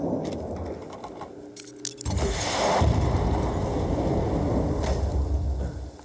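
Bazooka shots in the zombie shooter Into The Dead 2 land as heavy booming blasts with a rumbling roar that swells after a brief lull and stays loud and dense to the end.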